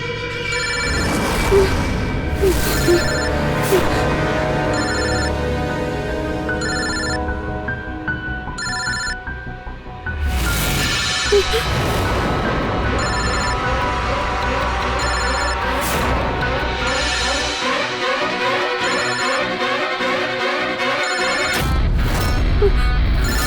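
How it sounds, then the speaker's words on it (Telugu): A telephone ringing repeatedly in a busy, loud scene, its bell tones sounding through dense music and noise with voices, continuing steadily for over twenty seconds. "అరే, ఫోన్ రింగ్ అవుతుంది కదా, దయచేసి ఎత్తి మాట్లాడండి"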